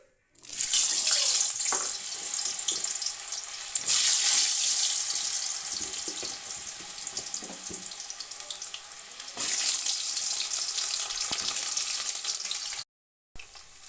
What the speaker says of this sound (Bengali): এবার আলুগুলো ভেজে উঠিয়ে নেব।